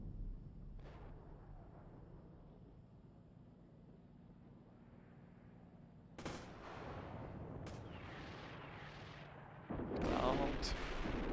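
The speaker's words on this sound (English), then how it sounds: "This is 2-1, we're taking fire here." Gunfire in the tank simulator Steel Beasts Pro PE arrives as scattered booms and sharp cracks over a low engine rumble, sparse at first, then heavier and closer toward the end, with radio voices faintly underneath.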